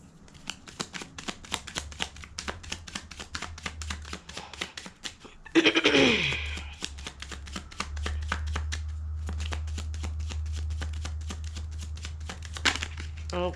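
A deck of tarot cards is shuffled repeatedly with rapid flicking riffles close by, a brief whooshing bridge in the middle, then more steady riffling.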